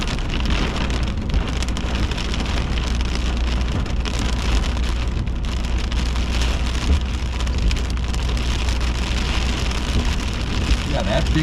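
Heavy rain drums steadily on a car roof and windshield during an intense severe thunderstorm near Fennimore, Wisconsin, a loud unbroken wash of droplets with a low rumbling undertone throughout.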